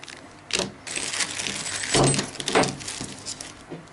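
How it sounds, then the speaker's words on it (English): Metal Allen keys from a Concord XC-002 key machine kit clink and jangle in a few close, brief bursts while being handled during unboxing. "2 Allen keys."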